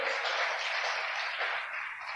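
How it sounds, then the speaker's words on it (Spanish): A church congregation applauds for Jesus, a dense, steady wash of clapping from many hands that holds evenly for a couple of seconds. "Entonces denle un aplauso bien fuerte a Jesús"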